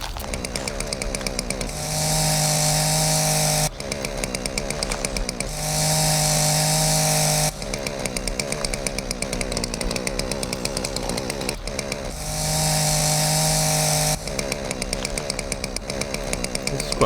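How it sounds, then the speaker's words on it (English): Repeated chainsaw cutting bursts from the Dinosaur Fossil Hunter video game, three loud sustained buzzing passes separated by a steady background engine idle, with no talking. "There's a chainsaw."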